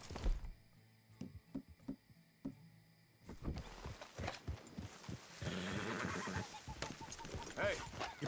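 A horse in the video game Red Dead Redemption 2 whinnies, then hooves clop at a steady gait, with soft thuds and some faint voices in the background.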